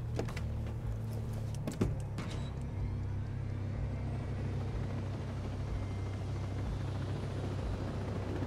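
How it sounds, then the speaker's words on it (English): Helicopter in the video game Ghost Recon Breakpoint, a steady droning rotor and engine rumble running loud and continuous throughout, with a few brief clicks near the start. "I'm just gonna hop in the helicopter"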